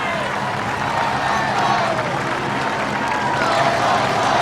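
A huge crowd of spectators cheers and applauds steadily along the course of the Sydney 2000 Olympic triathlon, a dense, continuous roar with no breaks.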